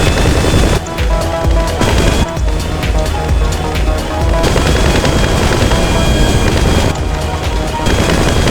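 Machine gun fire in GTA 5 Online during the Doomsday Heist Act 3 Volatol mission: loud, dense, continuous bursts of automatic fire over a roaring, wind-like background, with brief dips between volleys.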